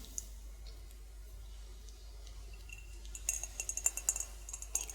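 A cup of tea is handled close up in a quiet room, a soft cluster of light clicks and ceramic clinks arriving near the end after a stretch of near silence.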